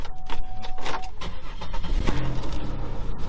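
Chevrolet Monte Carlo SS engine starting up: a crank followed by the engine catching and settling into a rough idle, close by, with no talking.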